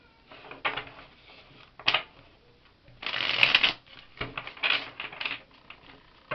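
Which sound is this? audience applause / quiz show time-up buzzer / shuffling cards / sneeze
shuffling cards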